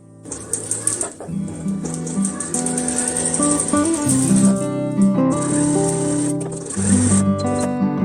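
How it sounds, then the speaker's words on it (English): A sewing machine runs in steady, buzzing bursts while stitching a dress pocket seam, starting and stopping several times, close and fairly loud with no talking. "I'm literally going to pin it and just sew all the way until I get to here"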